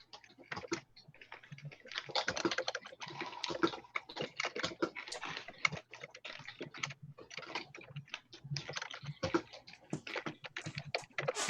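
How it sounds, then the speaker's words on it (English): Dense, fast typing on a computer keyboard, with irregular bursts of key clicks running steadily throughout at close range, with no speech over it. "I was typing."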